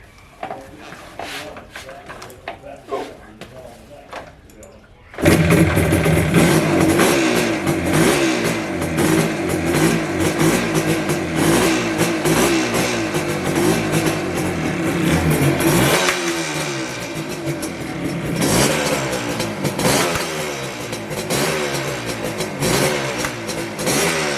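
A 1976 Yamaha RD400C two-stroke motorcycle bursts into life after choke and fuel are set, then revs loudly and steadily with raspy, rising and falling throttle blips close by, following a few seconds of quiet handling noises.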